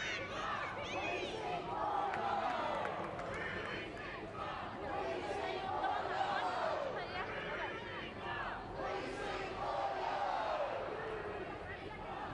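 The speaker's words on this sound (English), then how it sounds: "Vocal crowd today." A vocal stadium crowd at a women's A-League football match between Central Coast Mariners and Western Sydney, a continuous distant roar of chanting and babble with swelling shouts.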